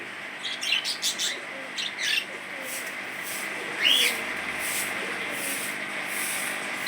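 At a bird shop in Kerala, pigeons and other caged birds give sparse chirps and one sharper call against a low hum of street background.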